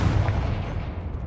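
A Confringo blasting spell explodes in the video game Hogwarts Legacy, a short, heavy boom that rumbles and then fades away.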